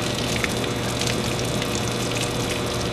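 Water runs through a scuba regulator second stage while it is rinsed, a steady hissing gush close by that stays unbroken throughout.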